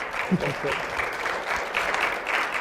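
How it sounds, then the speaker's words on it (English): An audience claps together in a steady burst of applause, with a few voices faintly mixed in underneath. "That does deserve a round of applause."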